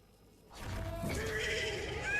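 A horse neighs loudly in a video game, a drawn-out whinny rising out of near silence after about half a second and continuing over a dense layered backdrop to the end.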